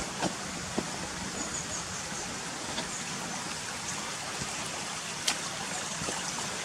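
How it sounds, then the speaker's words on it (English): Water rushes continuously in a broad, steady hiss, a nearby stream flowing at Gunnerside Gill, with occasional faint clicks and no talking. "the river runs alongside it, making it all boggy and wet"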